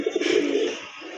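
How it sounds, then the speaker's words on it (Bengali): A pigeon at a seller's stall of paired fancy pigeons, including black-tailed kaldom birds, gives one short burbling coo, close and clear, trailing off into quiet. "আরেক জোড়া কবুতর কালদম কবুতর"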